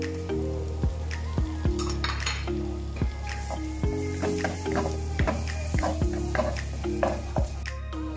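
Prawns tossed with chopped garlic in a hot pan sizzle continuously while a metal spatula clanks and scrapes against the pan in an irregular rhythm.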